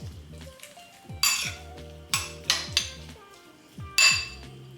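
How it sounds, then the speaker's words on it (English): A spoon mixes oatmeal with milk in a bowl, giving a run of soft swirling scrapes broken by several bright metallic clinks against the bowl's side, close and fairly quiet, with no voices. "let's add the milk first. And we'll give this a mix."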